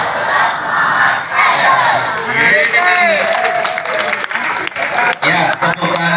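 Junior high school students at SMP Negeri 8 Cilacap cheering loudly and clapping at an earthquake awareness session, a dense roaring crowd of shouts with rhythmic applause building toward the end.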